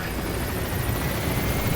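A helicopter in the video game Metal Gear Solid V: The Phantom Pain gives a loud, steady, close rotor and engine roar throughout, with no talking.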